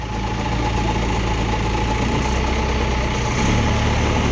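A steady, loud Rocky FXZ-260 motorcycle engine idles close by with a constant low rumble, running unchanged throughout.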